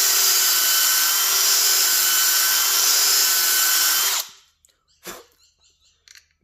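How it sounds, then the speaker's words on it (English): A power drill bores a hole through a rubber RV Snappad pad, whining loud and steady for about four seconds before stopping, followed by a few faint clicks and handling noises. "you're going to have to use a drill bit that fits that hole perfect"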